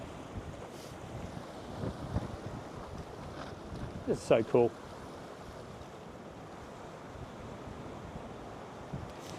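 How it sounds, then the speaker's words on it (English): Wind blows steadily across a shoreline at the water's edge, a continuous rushing roar with low buffeting gusts against the microphone throughout. Faint wave wash sits beneath it, and a person speaks briefly partway through. "So so we're in a bit of wind here."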